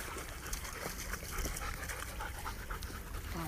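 A dog pants rapidly and audibly at close range in an outdoor setting, with a faint whimper, against a noisy, rustling background.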